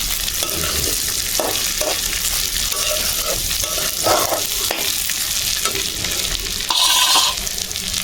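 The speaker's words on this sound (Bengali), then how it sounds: "ডাইল যেমন ভাজি দিচ্ছুম বন্ধুগণ।" Lentils (dal) frying in a pan for khichuri, a loud steady sizzle under repeated scraping stirs, with a brief hissing burst near the end.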